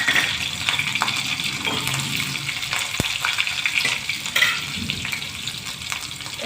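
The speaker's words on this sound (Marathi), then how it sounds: "मोहरी छान तडतडू द्यायचं कारण ढोकळ्याला मग मोहरी छान लागते तडतडल्यानंतर" Mustard and cumin seeds with chopped green chillies fry in hot oil for a dhokla tempering, a close, busy sizzle broken by scattered pops and one sharp clink.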